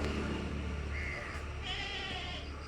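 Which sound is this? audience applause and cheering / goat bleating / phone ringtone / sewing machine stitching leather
goat bleating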